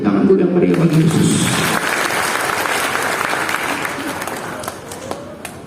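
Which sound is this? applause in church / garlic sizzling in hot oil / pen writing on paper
applause in church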